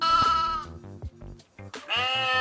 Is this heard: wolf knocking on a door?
no